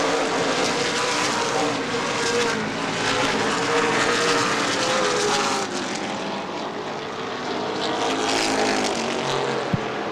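Late model sportsman stock cars race around Angola Motorsport Speedway, engines roaring loud and continuous as the pack passes, with the drone rising and falling as cars run side by side.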